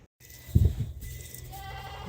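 Goats on a small homestead give a short loud bleat close by, followed by a softer second call over background noise.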